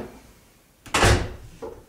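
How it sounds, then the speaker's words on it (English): A door swings shut with a single solid thud near the microphone, a short burst of impact and rattle followed by a faint click as it settles, with no talking; the door has a homemade TRX suspension strap anchored over it. "Close the door"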